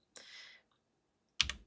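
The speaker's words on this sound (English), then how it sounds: "Press 2 on the keyboard." Computer keyboard keys pressed while drawing in the Tinkercad sketch tool: a brief soft clatter, a pause, then a sharper double click, close and quiet in an otherwise silent room.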